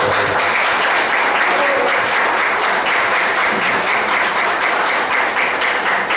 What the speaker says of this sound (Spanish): pedir un aplauso a todos.